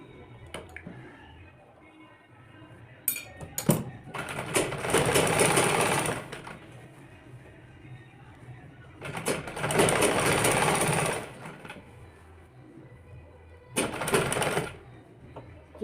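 Stitching a kurti collar, a sewing machine runs in three separate bursts of rapid, rattling stitches, close by, with quieter handling sounds in the gaps between runs.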